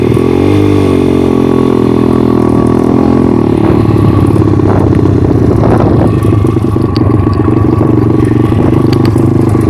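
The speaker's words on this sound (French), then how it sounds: "je garde un petit filet de gaz et je vais lâcher doucement l'embrayage" A motorcycle idles steadily in first gear, then pulls away as the clutch is gently let out on a small amount of throttle, its engine note rising and clattering loudly and close throughout.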